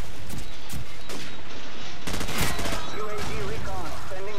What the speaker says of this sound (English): This M16 is so good.